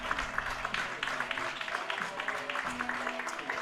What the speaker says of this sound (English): he gets a ovation from the crowd, and rightfully so.